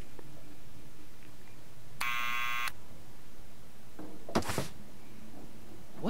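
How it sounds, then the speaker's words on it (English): An electric buzzer in the Back to the Future video game gives one steady, harsh, droning burst of under a second against a quiet room-tone background, followed by a couple of short clunks. "Hit the buzzer."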